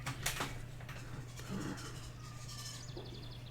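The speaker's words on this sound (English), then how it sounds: "You can hear the birds outside." Birds chirp and sing outdoors at a distance, repeated short tweets scattered over a steady low hum indoors, with no talking.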